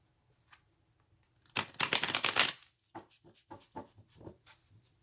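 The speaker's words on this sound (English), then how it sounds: "I'm trying to shuffle these and no room" A quick riffle of cards shuffling, a brief crisp burst followed by a few softer taps and clicks as the deck is squared up.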